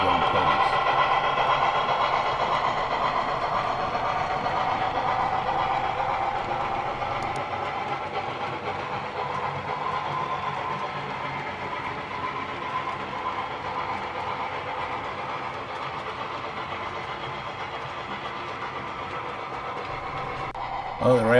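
An excursion train rolls past a road crossing in South Jersey with a steady rumble and rhythmic rail clatter, gradually fading as it moves on.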